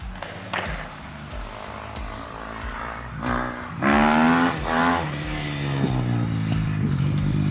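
A car engine revving hard in repeated surges with rattly mechanical noise, the pitch climbing and dropping as it is driven aggressively on a farm with hard braking.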